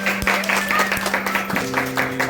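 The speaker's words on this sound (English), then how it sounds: "Give a clap, children, to all of them." Schoolchildren clap together at an Independence Day school assembly in Malkajgiri, India: a dense patter of hand claps at moderate level, with a steady tone and bits of voices running underneath.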